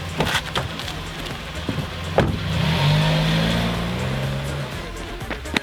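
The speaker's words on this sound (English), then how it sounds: "I just jumped into a moving car." A car moves off and drives away in an action film scene, a low engine rumble swelling near the middle among sharp knocks and clatters, fairly close.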